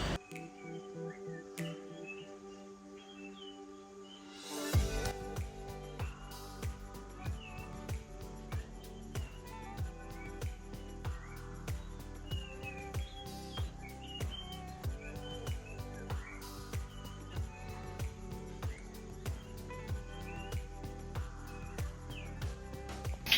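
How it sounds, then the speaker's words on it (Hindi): Birds chirp at dawn around 3:30 am outside a hotel in Ramgarh near Nainital. Small, repeated tweets come through faintly over a steady background hum and insect-like drone, and no one speaks. "चिड़ियों का आवाज़ चुपचाप सुनो"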